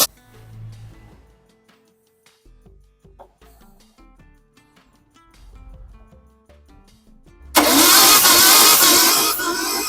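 A Mitsubishi 4G63 engine with all spark plugs removed cranks over for a compression test, giving uneven starter whirring and clicks, then a sudden loud, sustained roaring burst near the end.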